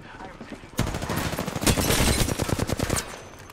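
Gunfire from Apex Legends crackles as rapid, loud bursts of automatic shots. They start suddenly and run for about two seconds before cutting off, and a player's voice is heard faintly alongside.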